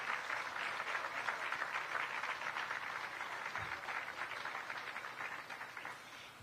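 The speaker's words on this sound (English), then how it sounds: "Please give them a round of applause." Crowd applause at an outdoor groundbreaking ceremony for a Buc-ee's store in Goodyear, a dense sustained clapping from the audience that holds steady and tapers slightly toward the end.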